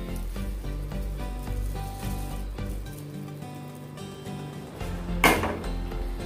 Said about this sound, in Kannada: ಈಗ ನೋಡಿ, ಕುದೀತಾ ಇದೆ.